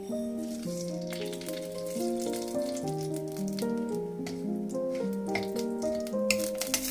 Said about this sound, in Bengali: তেলটা গরম হয়ে গেছে, আমি দেব একটা শুকনো লঙ্কা আর একটু কালো সর্ষে।